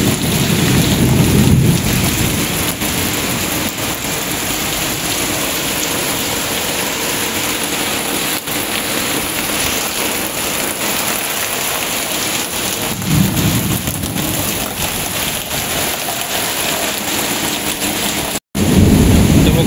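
Heavy rain pours steadily during a sudden village storm with strong wind, and rumbles of thunder swell twice beneath the continuous loud downpour.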